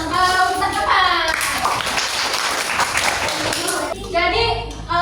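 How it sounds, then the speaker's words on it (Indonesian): A class applauds for Ustaz Kamal with a burst of clapping that runs for a few seconds, framed by someone speaking at the start and end. "tepuk tangan buat Ustaz Kamal"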